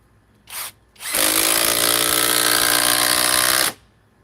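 A Cobalt power drill drives a 4-inch timber screw into wood: a short burst of whirring, then a loud, sustained whine with a straining motor tone for about two and a half seconds before it abruptly stops, close by with no talking.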